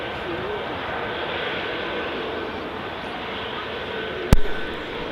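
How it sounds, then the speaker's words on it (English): An easyJet Airbus A320neo jet airliner from Gibraltar, wearing a Neo decal on its rear fuselage, passes at Manchester Airport as a steady, broad engine roar that holds level throughout, with a brief sharp knock near the end. "EasyJet A320 Neo from Gibraltar, featuring the Neo decal at the back half of the fuselage."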